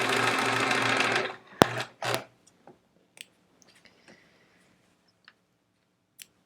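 A sewing machine stitches a quilt block in a fast, loud run of about a second and a half, then stops, leaving scattered faint clicks and taps.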